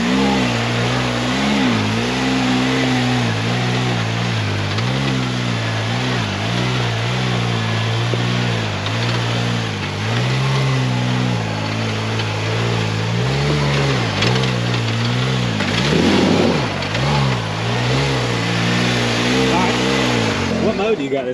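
A mid-pitched 2024 Can-Am Maverick R side-by-side engine drones steadily while driving in four-wheel lock, rising and falling slightly with throttle, loud and close, with someone talking over it.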